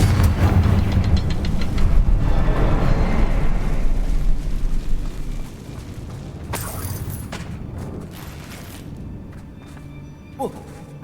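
A Confringo fire spell detonates in Hogwarts Legacy, a loud low rumbling blast that swells over several seconds and then fades, followed by a few sharp crackling bursts and a small pop near the end.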